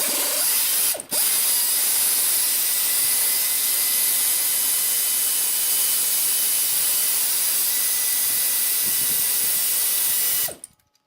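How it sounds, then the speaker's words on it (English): A 12mm socket on a ratchet works loose the bolt holding a catalytic converter to its frame bracket, giving a steady, loud, close-up ratcheting hiss that runs nearly continuously for about ten seconds before stopping abruptly. "12mm socket will get this bolt off here holding the catalytic converter to the frame bracket"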